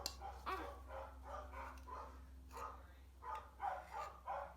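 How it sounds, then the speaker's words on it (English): Several dogs barking in repeated bursts at a moderate distance, with a steady low hum running underneath. "That's our neighbor's dogs."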